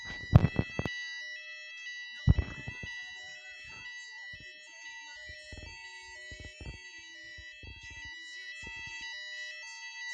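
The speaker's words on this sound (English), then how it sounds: "The fire alarm has been activated." A fire alarm sounds during a fire drill in a Melation PLC system with voice evacuation. It is a steady, continuous electronic tone throughout, with a few sharp knocks near the start.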